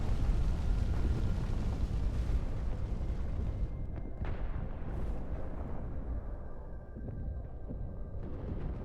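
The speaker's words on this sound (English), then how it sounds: "And there comes the artillery." Artillery fire and explosions in the military strategy game WARNO, a dense continuous rumble of overlapping booms and blasts with a few sharper bursts standing out, loud and steady throughout with no talk.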